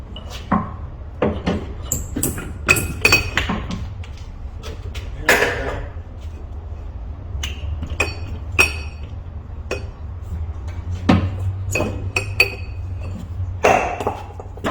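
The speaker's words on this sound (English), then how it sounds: "we're just gonna take the hammer" A hammer strikes a car's front axle on a Toyota Tarago/Previa repeatedly in irregular, sharp clanks and ringing clinks, with quiet pauses and faint background noise between blows.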